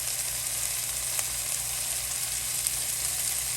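Beef ribs sizzling in a stovetop pan as broth is added, a steady bright hiss of frying with small crackles and pops, close and continuous.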